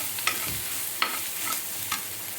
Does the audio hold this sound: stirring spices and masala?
yes